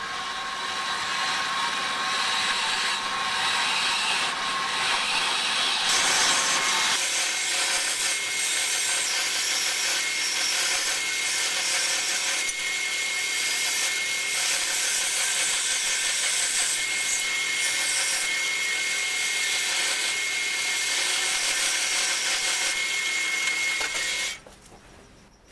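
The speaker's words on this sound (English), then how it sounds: "That's the vertical bandsaw. It's horizontal at the moment." A vertical bandsaw set horizontally cuts through metal with a continuous whining, buzzing grind, steady and close for over twenty seconds before stopping abruptly.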